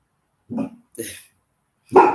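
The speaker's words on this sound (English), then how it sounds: "he barking at people walking down the hallway" A pet dog gives three short barks with gaps between them, the last one louder and sharper, heard close by and alone indoors.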